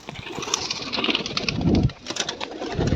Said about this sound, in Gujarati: જોઈ લો આ બધા નીકળી ગયા હવે કબૂતર